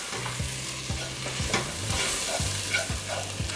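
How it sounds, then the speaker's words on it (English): Chillies and spices frying in oil in a pan while a spoon stirs them, a soft continuous sizzle broken by regular scraping strokes roughly twice a second, close and without talk. "I'm going to add the chillies. I'm going to add the spices. Give that a stir."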